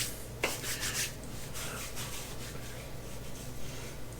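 Close, soft rubbing and scratching as beard balm is worked into a beard by hand, a continuous brushy friction sound with small bursts, no talking.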